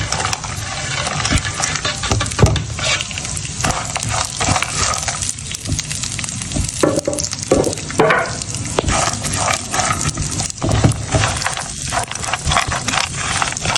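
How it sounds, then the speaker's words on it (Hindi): Cashews and pistachios frying in a pan in a home kitchen, a loud continuous sizzle with constant rattling and clicking as the nuts are stirred around the pan. "फ्रूट्स को मैं फ्राई कर रही हूँ"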